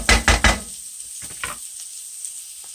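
Mushrooms sautéing in a pan, with a few loud stirring knocks and scrapes at the start and then a soft, steady sizzle with an occasional light clink.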